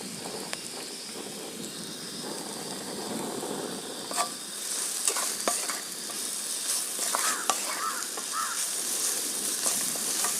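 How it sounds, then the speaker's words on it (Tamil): Onions sautéing with salt in a pan for Hyderabadi chicken, a continuous close sizzle broken by spoon scrapes and clinks as they are stirred, moderately loud, with no voices. "இப்போ இந்த வெங்காயம் வதக்கிறதுக்கு கொஞ்சம் உப்பு போட்டுக்கலாம்."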